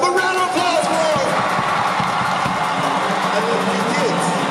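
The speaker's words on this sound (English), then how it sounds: "A round of applause for him." A live audience at an outdoor stage show cheers, whoops and yells for a young boy guest, a dense continuous crowd roar with children's shouts mixed in, loud and steady throughout.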